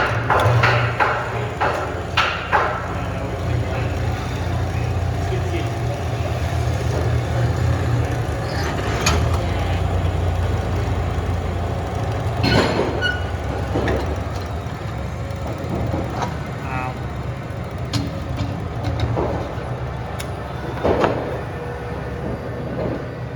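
A long, steady mechanical rumble of a drill boring into wood for a dowel joint, with grinding and scattered knocks and clanks, loud and close, continuing without a break.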